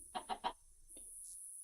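Chicken from the Minecraft game giving three quick, evenly spaced clucks, clear and close, followed by a faint softer cluck against a steady background tone.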